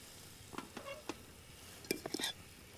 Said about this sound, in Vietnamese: Bây giờ Phương Thí sẽ bắt lại cái nồi cháo lên nha